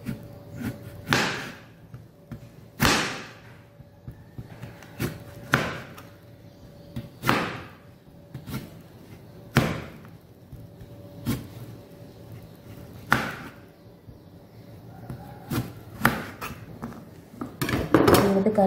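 A knife chopping raw figs into round slices for chips on a board, a series of sharp, separate knocks at an uneven pace, close and fairly quiet.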